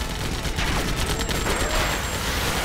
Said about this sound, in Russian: Ой-ой-ой, меня уже пуляют.